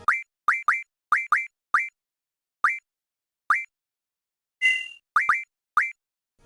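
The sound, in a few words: Final Fantasy VIII menu scrolling sound effect, video game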